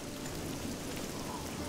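Steady rain in the video game The Elder Scrolls IV: Oblivion, a dense even hiss of falling drops that holds at the same level throughout the short stretch, with no talk over it.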